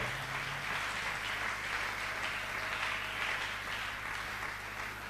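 A church congregation applauding, steady sustained clapping from a large crowd heard at moderate volume throughout, with a faint voice briefly underneath.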